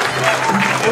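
Audience in a comedy club applauding the evening's performers at the close of the show, a dense wash of clapping under a voice still speaking over it.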